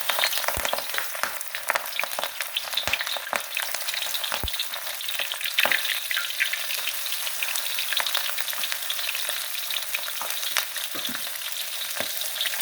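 Prawns coated in corn starch fry in very hot oil, giving a loud, continuous close sizzle broken by sharp pops and crackles throughout.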